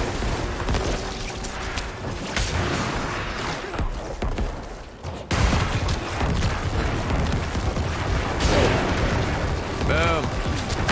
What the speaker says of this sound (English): Corpse exploding everything!